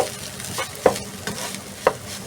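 Rice stirred in a pan with onion, garlic and paprika, a spoon scraping and turning the grains in a few distinct strokes over a soft background sizzle.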